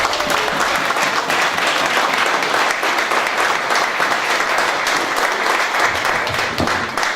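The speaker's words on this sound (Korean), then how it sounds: "뜨거운 박수로 부탁드립니다" Loud, sustained applause from a crowd at a party founding convention in Daejeon, dense steady clapping filling the whole stretch without a pause.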